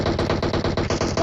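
Rapid automatic gunfire in a battle royale video game, coming from behind: a dense, loud burst of repeated shots in a fast steady rhythm, filling the whole moment.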